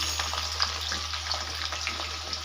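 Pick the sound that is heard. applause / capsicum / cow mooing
capsicum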